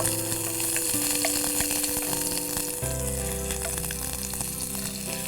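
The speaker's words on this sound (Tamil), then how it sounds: "மிளகா போட போகிறேன்." Chillies, Kashmiri and regular, fry in a pan for Schezwan fried rice, making a loud, continuous close sizzle with steady crackle and a brief clatter partway through; no one speaks.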